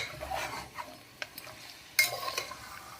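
A spoon scrapes and clinks against a pan while mutton masala is stirred over low heat, quiet irregular scraping strokes with a few sharper metallic knocks and faint sizzling.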